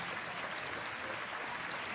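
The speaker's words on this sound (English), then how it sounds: "as the entire crowd here claps." Crowd at a high school ice hockey semifinal claps steadily as an injured player is helped off the ice, a dense, even wash of applause filling the arena without talk.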